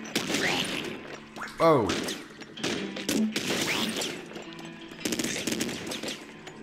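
Rapid bursts of weapon fire and explosive thumps from a grenade launcher in the top-down shooter Nuclear Throne, close and loud, mixed with game effects, with a man briefly exclaiming over the action.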